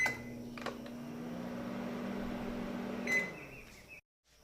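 A microwave oven hums steadily once switched on, a close mechanical drone with a couple of brief beeps, then cuts off abruptly near the end.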